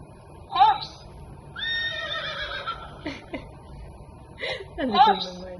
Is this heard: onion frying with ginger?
no